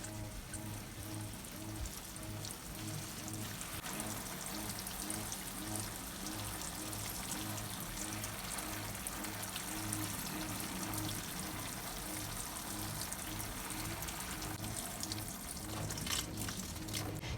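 Water pours steadily into sugarcane growing in backyard containers as they get a thorough soak, a continuous splashing wash with no talk over it.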